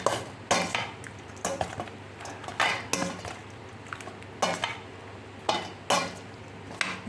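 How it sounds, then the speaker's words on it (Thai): Thai pork sausage salad with rice noodles being tossed and mixed in a bowl: irregular clinks and scrapes of a utensil against the dish, close and clear, with no talking. "ก็คลุกเคล้าให้เข้ากันนะคะ"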